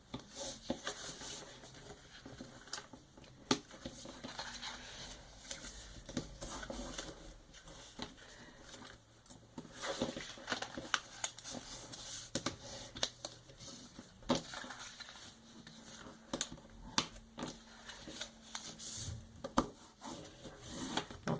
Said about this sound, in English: I'm going to fold my edges, get rid of some of these things here, and burnish them with my bone folder